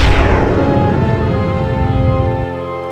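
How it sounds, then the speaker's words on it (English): Geyser effect from the Hunter video game: a loud gushing burst with a bright hissing onset that settles into a sustained rumbling churn, fading slightly over about two and a half seconds. "Geyser."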